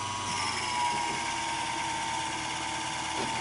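Motor of a Singer Model 221 Featherweight sewing machine spinning freely, a continuous even whirring hum heard close up and unbroken throughout.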